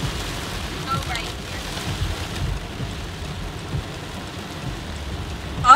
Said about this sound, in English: Bridget, the rain.